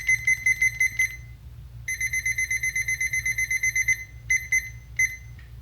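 A kitchen timer gives bursts of sharp electronic beeps while it is set for an hour in a home kitchen during baking. There are rapid runs of beeps, a longer steady string, then a few single beeps, clear and close, with no talk.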